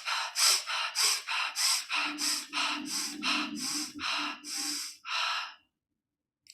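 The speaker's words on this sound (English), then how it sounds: "in through the nose, out through the mouth, but all of these breathings are at a rapid pace and sometimes a double pace" A person does rapid breathwork, in through the nose and out through the mouth: about a dozen quick, sharp, close breaths in a steady rhythm, then silence.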